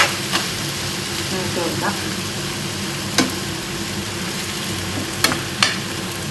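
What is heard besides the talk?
masala being stirred and fried in a pan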